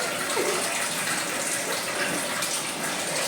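A strong, steady gush of water pouring from a household tap, loud and continuous throughout with no pauses.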